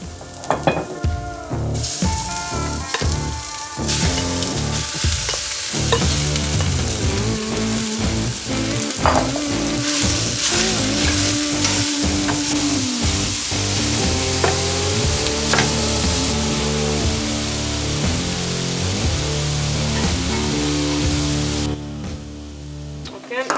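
Shrimp fry in oil in a pan with a loud, steady sizzle and intermittent stirring scrapes up close, while music plays along underneath.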